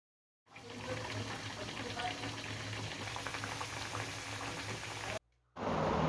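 Urad dal luchi frying in hot oil give a steady, bubbling sizzle close by, cutting off briefly near the end before resuming.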